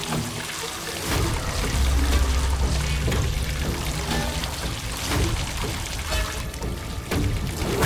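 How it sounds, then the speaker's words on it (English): Water gushes and pours steadily into a car through broken glass in an animated horror story, a loud continuous rushing pour that fills the whole stretch with no speech over it. "Water starts pouring into the car quickly like an invisible monster."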